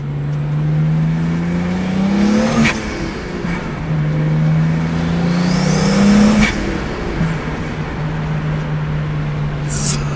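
An engine revs repeatedly in a BMW 135i built into a 1M clone, each rev climbing and falling back to a steady idle, loud and close, with brief voices in the background.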